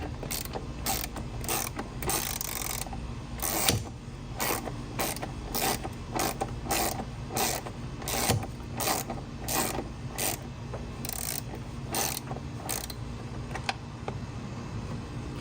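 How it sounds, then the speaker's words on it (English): A ratchet loosens a 10mm bolt on the power module bracket of an Audi C8 RS6, making a series of quick, close clicking bursts with short pauses between strokes over a quiet background. "the next bolt I gotta get out is another 10. It is what holds the power module bracket in"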